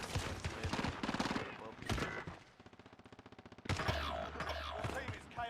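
Rapid automatic gunfire in a Call of Duty match, loud bursts of shots with a steady fast rattle in the middle, mixed with other game effects and a voice.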